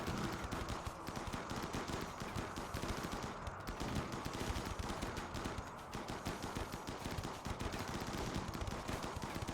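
Rapid, continuous gunfire from a video game, dense automatic bursts blending into a steady clatter for the whole stretch, loud and unbroken with no talking.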